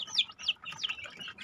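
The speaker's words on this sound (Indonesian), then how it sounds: "Ini juga anakan ayam." Young chicks, under two weeks old, peep repeatedly in a simple breeding coop, giving a dense run of high, shrill chirps close by with no talk.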